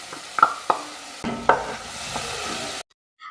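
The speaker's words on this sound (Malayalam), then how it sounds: "ഇനി നമുക്ക് ഇഞ്ചി വെളുത്തുള്ളി പച്ചമുളക് വേസ്റ്റ് ഇട്ട് കൊടുക്കാം." Ginger, garlic and green chilli dropped into softened onions in a pan for biriyani, giving a soft sizzle with a few scraping stirs and clinks, close by, before cutting off abruptly.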